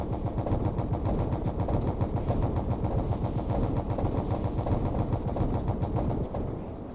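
A bomber's main gun in Stormworks fires in a long, rapid automatic burst, loud and close, steady rapid thumps that run for several seconds before cutting off.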